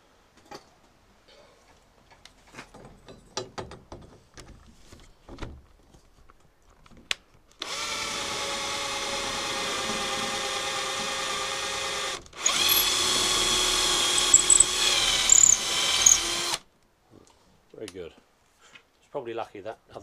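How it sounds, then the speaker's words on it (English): A power drill whirs steadily for several seconds, pauses briefly, then runs again at a slightly higher pitch while drilling a Vauxhall 14/40 car's windscreen pillar; light clicks and handling noises come before and after. "let's drill this other one."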